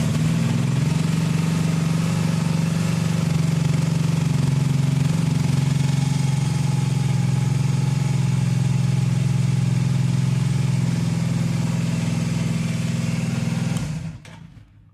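A Venus motorcycle engine runs steadily at idle with a low, even drone, close and loud, holding for about fourteen seconds before it cuts off abruptly.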